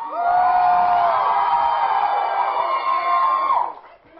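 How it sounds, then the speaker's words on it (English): A loud crowd of fans at a Chennai meet-and-greet with Hrithik Roshan screams and cheers in one sustained high-pitched roar lasting several seconds, then it drops away abruptly. "Loud scream for Hrithik!"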